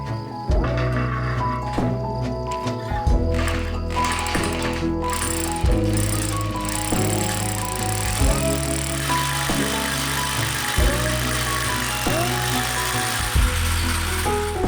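A power drill bores through an irregular stone wall set with mortar during a stone cabin renovation. The motor runs loud and close, with steady whining tones broken by several brief pauses and restarts.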